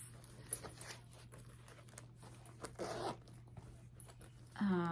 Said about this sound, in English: Then you've got a bigger slip pocket here that's going to zipper with fossil on the zipper pull.